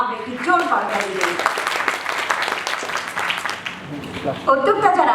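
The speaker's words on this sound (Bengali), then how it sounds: "আসুন এই শুভযাত্রায় আমরা একটি জোর করতালি দিই।" Audience applause at a young entrepreneur award ceremony in Bangladesh, a sustained wash of many hands clapping, loud and steady for several seconds, with some voices mixed in.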